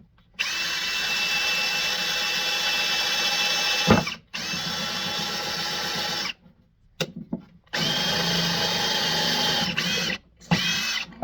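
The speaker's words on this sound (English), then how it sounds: "before drilling a hole directly into my workbench" A Hart power drill bores into a wooden workbench in loud, sustained whining bursts, cut off by a few short pauses and one sharp knock, close to the microphone.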